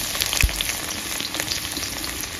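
Oil in a kadai with dried red chillies and onion sizzles and crackles steadily, close and moderately loud, with a brief stir or clatter early on.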